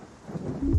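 Rain falls steadily in a thunderstorm while a low, deep rumble of thunder swells and grows louder toward the end; no one speaks.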